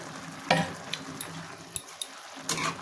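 Lentils with salt and turmeric stirred in a pot, a few faint scrapes and soft clinks of the spoon against the pot with a quiet sizzle, close and sparse.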